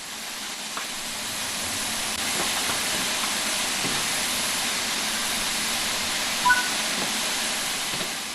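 A steam locomotive setting off in Train Sim World 5, a steady broad hiss of escaping steam with a slight rise in intensity and a faint clank near the end, no voices.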